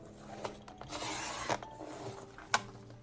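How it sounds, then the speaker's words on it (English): Paper trimmer slicing handmade journal cards: a series of short scraping, ratcheting cuts with rubbing friction, louder swells in the middle and a sharp click near the end, close up with no talk. "I'm going to trim those cards down as well"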